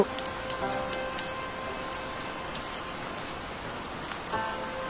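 Steady rain falls on a city street, a dense, even patter of drops on hard surfaces that continues unbroken and fairly loud, with no voices.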